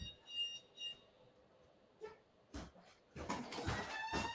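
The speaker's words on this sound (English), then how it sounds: "That was one of my very obnoxious alarms." A phone alarm goes off in a room, short chirping tones repeating at first, then louder, broader electronic bursts pulsing toward the end, moderately close.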